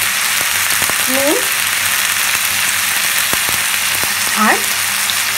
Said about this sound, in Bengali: বেগুন আলুটা একটু লাল লাল করে ভেজে নেব